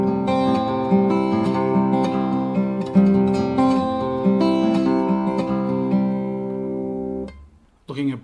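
Solo acoustic guitar plays a fingerpicked passage, bars 13 to 16, a steady stream of plucked notes and ringing chords, stopping abruptly with a brief voice after.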